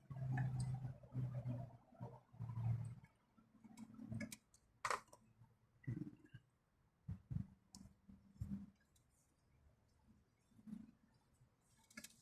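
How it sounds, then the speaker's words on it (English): A plastic connector snaps onto the intake manifold of a VW Golf/Jetta Mk5 during a gasket replacement: a run of sharp, close clicks and taps mixed with handling noise, with no talking. "then it pinches these two until you hear a click like that"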